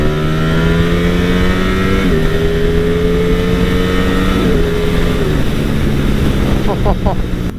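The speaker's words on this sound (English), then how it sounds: "That quick shifter, dun dun dun dun." A Ducati Streetfighter V4S motorcycle pulls hard through the gears on its quick shifter, its loud, close engine note climbing and snapping down at each upshift, with a few quick pops near the end, all under wind rush.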